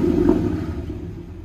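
A car exhaust with a newly installed large muffler gives a deep, throaty low rumble, loudest at first and then settling into a steadier idle over a brief moment.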